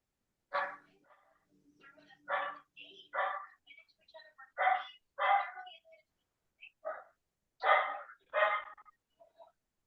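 A puppy barks in a series of sharp, high yips, about eight of them spaced irregularly, close and loud, with brief whimpers between them and no other sound behind.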